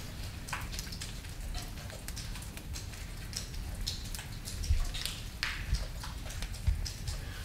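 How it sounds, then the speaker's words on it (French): Steady rain patters on surfaces outside, a continuous hiss dotted with irregular drops and occasional louder taps, fairly quiet and without talk. "Il y a des bruits parasites. La pluie. Toutes ces choses-là."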